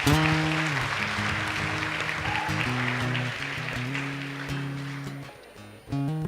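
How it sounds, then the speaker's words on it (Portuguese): A church congregation claps together in a broad, steady round of applause, while sustained instrumental music plays beneath it and a short pause comes near the end. "Dá uma salva de palmas ao Senhor."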